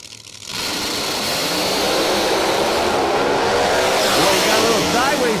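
A supercharged blower drag race car at a drag strip makes a loud, sustained engine roar that builds and holds across the run, heard from the stands with a rising, rasping tone.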